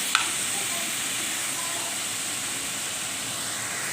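Chicken keema cooks in a pan with a steady, close sizzle and frying hiss, a single clink at the start, then continuous bubbling crackle with no talking.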